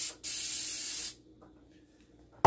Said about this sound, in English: I'm going to spray that into the air fryer next.